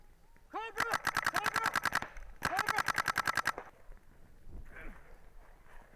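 Paintball guns fire during a field match in two rapid rattling bursts of shots, each lasting about a second, with a brief gap between them and quieter noise trailing after.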